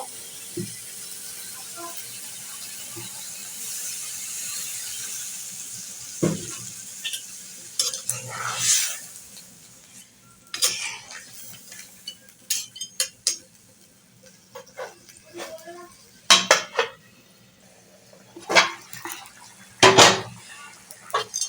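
Crab curry stirred in a pot as it comes to a boil, with intermittent clinks and scrapes of a metal spoon against the pot and a soft bubbling underneath, close and irregular.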